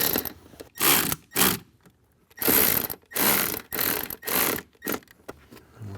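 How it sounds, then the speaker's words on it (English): Screws being tightened by hand on an Alpine speaker fitted into a Ford Bronco door, giving repeated ratcheting bursts of several seconds each, close and fairly loud, with short pauses between turns and no talking. "Now I can go through the rest of them, tighten the other two."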